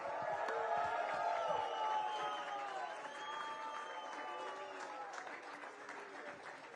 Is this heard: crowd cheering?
yes